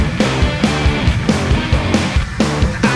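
A track plays loud and dense, with a heavy, pounding drum beat driving a distorted rock groove.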